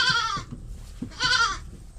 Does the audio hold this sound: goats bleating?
yes